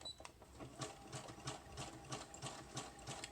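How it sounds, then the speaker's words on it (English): A sewing machine stitches a junk journal page in short, rhythmic bursts of rapid needle clatter with brief pauses between runs, close and fairly quiet. "I didn't want you to have to, you know, just listen to the sewing machine for very long."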